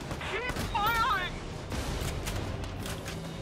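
Gunfire in the tactical video game Valkyria Chronicles 4 during a mountain battle: a rumbling spread of shots and bursts under ongoing voices, with a tonal warbling sound early on, moderately loud throughout.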